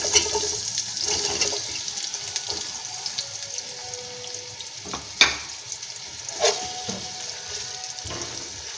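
Onions sizzling and frying in a pan for chicken korma, a steady soft hiss with occasional stirring clinks and scrapes, fairly quiet and close.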